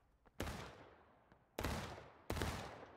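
Three loud, rolling musket volleys from massed infantry in the Civil War game War of Rights: one near the start, then two more in quicker succession, each a sharp crackling burst that trails off with echo, set against faint distant shots.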